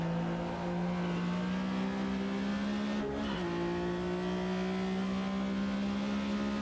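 Porsche RSR race car in the Automobilista 2 racing game, its engine holding a loud, steady high-pitched drone for the whole stretch, with a brief dip in pitch midway as if shifting gear.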